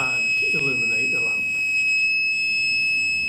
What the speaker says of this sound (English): create a circuit which will turn the buzzer on